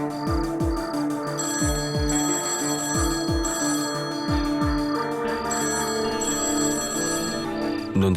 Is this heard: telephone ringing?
yes